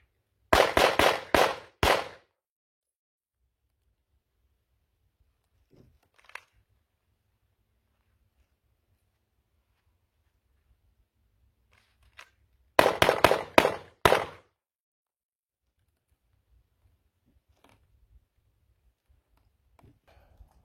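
Handgun shots from a shooting drill ring out in two quick strings of about five or six sharp, loud cracks each, separated by a long quiet stretch with only a few faint, isolated pops.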